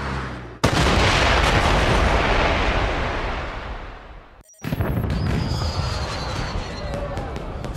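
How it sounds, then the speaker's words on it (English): A loud, dense roar of fireworks in the video game 007 Blood Stone fills the air, cuts out abruptly, then resumes with crackling bursts and faint high whistles. "Did you know there were going to be fireworks?"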